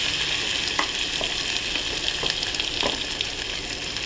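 Steady, hissing sizzle of ginger paste frying in hot oil with fried garlic, with a few faint clicks of stirring, close by and without talk.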